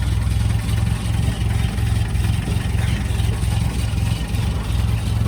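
An Austin Healey 100/4 Le Mans engine running at a steady idle, with a low, even rumble that stays constant and fairly close throughout, with no revving.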